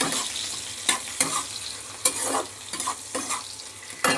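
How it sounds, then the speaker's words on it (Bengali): Onions fried in a pan, for a shrimp, flat bean and potato curry, hiss steadily up close while a spatula scrapes and stirs in repeated sharp strokes, with nobody speaking. "এবার পেঁয়াজটাকে একটু নাড়াচাড়া করে নেবো খানিকক্ষণ"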